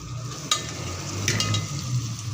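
Methi chicken with fenugreek roasting in a pan, a soft continuous sizzle with a couple of brief stirring clinks.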